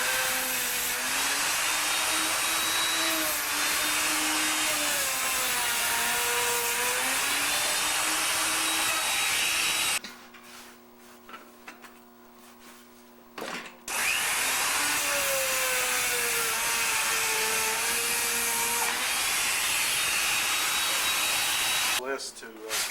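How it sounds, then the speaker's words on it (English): A router running loud and steady as it cuts lightening holes in wooden wing ribs for a Fokker Super Universal, guided by a clamped bypassing U jig; the whine shifts in pitch during each cut, with a short pause midway before it resumes. "a bypassing U router jig like this allows us to change the size of the holes with the varying tapers of the wing"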